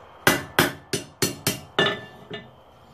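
A hammer strikes a rivet while assembling forged kit tongs. About seven sharp metallic blows land at a brisk, slightly uneven pace, close and loud, with the last one softer.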